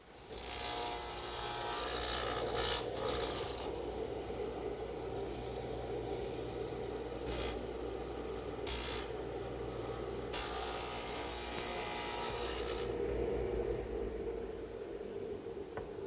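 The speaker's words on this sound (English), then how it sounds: "Cut off the corners with my saw, make the half lap with my dado head." A table saw and dado head cut the corners and a half lap on redwood for a gardener's work bench, loud whining blade noise running throughout, with sharp bursts as the wood is cut in separate passes.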